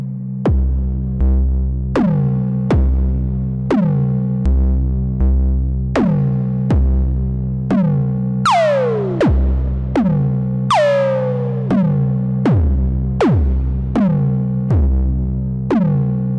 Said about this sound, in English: let's bring some distortion in so you can hear some of these harmonics